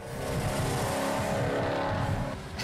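A 1971 Plymouth Cuda restomod with a 440 V8 roars steadily at highway speed, loud and close, with a brief tire squeal and no talk.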